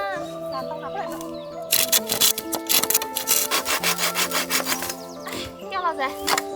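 A hand saw rasps through bamboo in quick rhythmic back-and-forth strokes that start after a brief lull, close and loud, with hens clucking and people talking around it.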